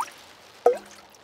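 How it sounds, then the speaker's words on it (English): A single cartoon water drop falling from a leaking school roof in the rain, one soft plip heard alone against near silence. "It is raining and the school roof is leaking again."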